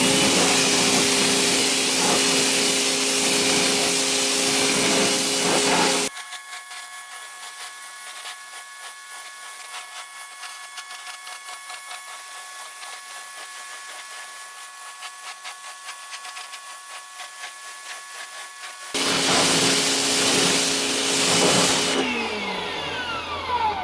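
A Harbor Freight electric pressure washer spraying a Trex plastic deck, a loud broad hissing spray with motor whine that cuts to a quieter hum for about thirteen seconds, then the full spray returns.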